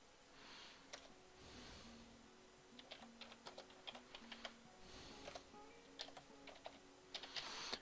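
Quiet, close keyboard typing with irregular clicks and short bursts of keystrokes, a faint low hum underneath.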